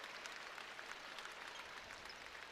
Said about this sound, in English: Crowd gives her a round of applause.